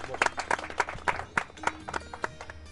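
A TV studio audience claps in a short burst, giving a rhythmic run of sharp, fairly close claps.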